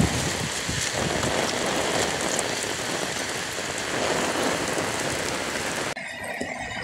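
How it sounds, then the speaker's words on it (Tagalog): Heavy rain from Typhoon Kristine pours down in a dense, continuous roar of drops hitting surfaces nearby, steady and loud for several seconds before a sudden shift in tone near the end. "Pag lumakas pa ang ulan, mas lalakas pa to."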